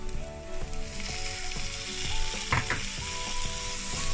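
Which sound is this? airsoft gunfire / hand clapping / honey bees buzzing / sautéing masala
sautéing masala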